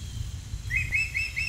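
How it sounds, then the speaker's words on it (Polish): An eagle calls in a series of four short, high, thin chirping notes in quick succession, faint and somewhat distant over a low background rumble, with no voices. "Orzeł. Gatunek dużego ptaka drapieżnego z rodziny jastrzębiowatych."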